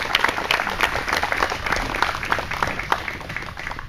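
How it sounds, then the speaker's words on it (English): Crowd at a Memorial Day gathering in Senecaville, Ohio, applauding continuously, a dense, even patter of many hands at moderate loudness, with light crowd murmur underneath. "Let's give them a round of applause"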